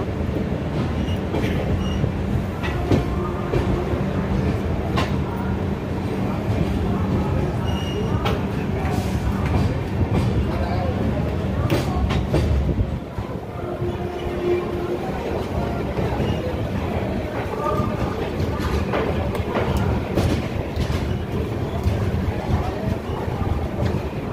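A train at Vijayawada junction, a continuous loud rumble of rolling railcars and rail noise throughout, with voices faintly mixed in under it.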